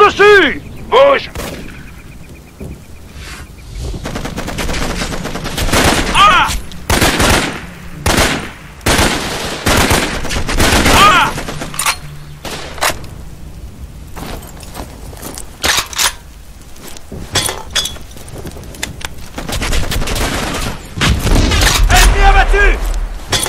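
Bursts of automatic fire, booming blasts and single shots from enemies in the jungle shooter Raven Squad, loud and irregular, with short lulls between volleys and game voices calling out at times.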